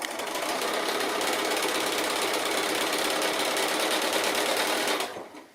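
A sewing machine runs steadily, stitching along a partial seam for a Christmas project, a loud continuous mechanical whir that holds for about five seconds and then cuts off abruptly.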